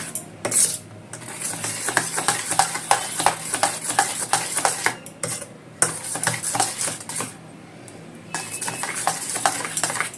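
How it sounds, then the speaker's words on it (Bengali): Chili powder being stirred into a thick fish roe fritter batter, a close, steady run of scraping and tapping strokes with a few brief pauses, no voices. "বড়াটা ভাজবো, ঝাল লঙ্কার গুঁড়োটা মিশিয়ে দেবো"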